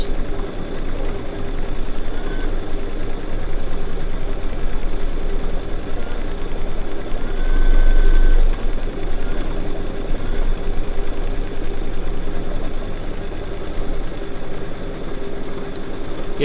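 A Baby Lock embroidery machine stitching edge-to-edge quilting runs with a steady, rapid mechanical hum and rhythmic needle chatter, fairly loud and close, with a slight swell partway through.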